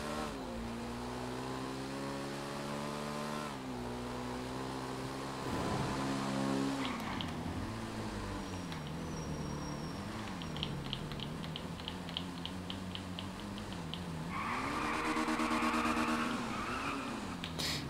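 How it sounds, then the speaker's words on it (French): A Yamaha T-Max scooter engine revs up and down in loud, sustained waves with rising and falling pitch, joined by a high squealing whine near the end, with no talking. "Tester le bruit du véhicule."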